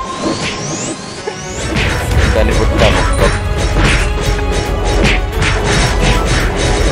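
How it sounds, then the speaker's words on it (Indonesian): A door being smashed and broken apart during a guild siege battle in Ragnarok Online, a rapid series of heavy crashing whacks and swishes over busy game noise, with a voice speaking briefly. "Pintu lepas, pecah, pecah, pecah, pecah."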